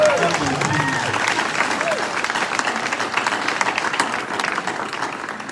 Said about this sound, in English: This is where you applaud and agree with